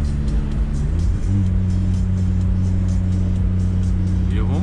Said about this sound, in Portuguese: Motor de Jetta, DSI, escapamento do Golf.